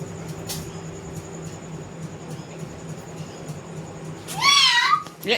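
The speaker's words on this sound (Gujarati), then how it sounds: "મીંદડી ક્યાં છે? મીંદડી આ રહી." A cat gives a single rising-then-falling meow near the end, loud and close, after several seconds of steady low household hum and faint background noise.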